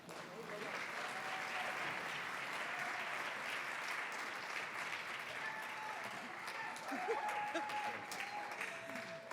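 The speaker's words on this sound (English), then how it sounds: "Now please continue to put those hands together for Director Cheryl Davis and Aaron Grizel." Steady, sustained applause fills a hall from a large audience at a concert celebrating Dr. Martin Luther King Jr., dense clapping that swells slightly near the end while a voice speaks over it.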